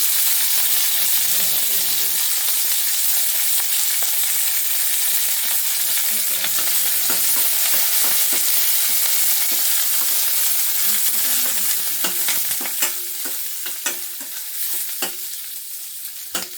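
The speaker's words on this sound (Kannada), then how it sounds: "ಫ್ರೈ ಆಗಲಿ ಚೆನ್ನಾಗಿ ಈರುಳ್ಳಿ ಎಲ್ಲ" Chopped onions with curry leaves frying in oil for egg pepper dry, a loud continuous sizzle close up with repeated scraping and stirring strokes of a spoon against the pan, the hiss easing slightly near the end.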